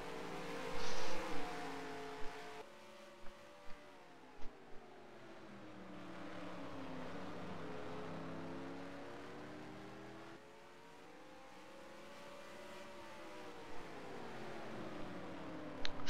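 A Chevy race car engine drones and revs steadily in a racing video game at Martinsville, pitch rising and falling through the turns as it laps, with a few sharp clicks and no voices.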